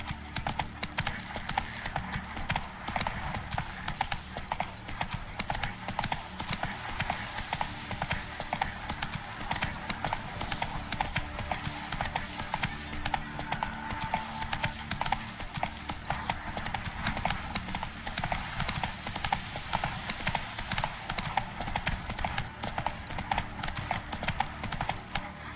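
Roach the horse gallops in The Witcher 3, a fast, steady clip-clop of hooves that runs unbroken at moderate loudness, with faint game voices now and then.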